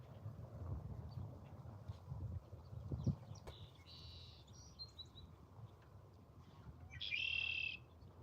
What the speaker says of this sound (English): See, the blackbirds are out.